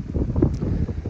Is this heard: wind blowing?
yes